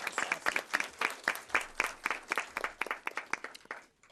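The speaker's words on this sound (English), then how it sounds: "please join me in another round of applause in our Transportation Apprentice Program graduates" An audience at a school board meeting applauding apprentice program graduates, a moderate round of clapping with distinct individual claps that thins out and stops at the end.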